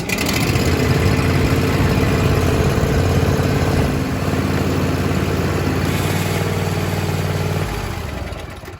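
A John Deere Z335E zero-turn mower engine runs loud and steady close by, its low rumble shifting in pitch partway through as the throttle changes, then easing off near the end.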